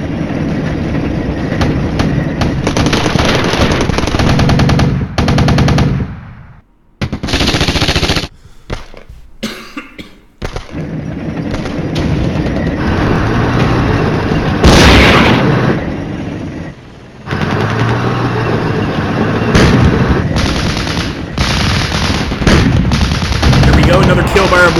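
Gunfire and tank cannon shots from the Cold War wargame Flashpoint Campaigns come as loud, dense bursts of crackling fire and booms. The barrage runs almost the whole time, with a few short quiet gaps and some sharp impacts standing out.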